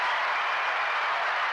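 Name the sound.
applause sound effect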